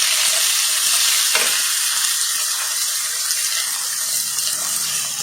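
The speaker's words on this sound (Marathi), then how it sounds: "छान गोल्डन ब्राऊन होईपर्यंत हा कांदा भाजून घ्यायचा आहे." Chopped onion frying in hot oil with cumin seeds and curry leaves while a stuffing masala for brinjal is prepared; a continuous bright sizzle, close and loud, steady throughout with a brief stir near the start.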